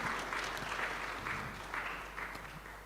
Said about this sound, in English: Let's give a round of applause to this august panel.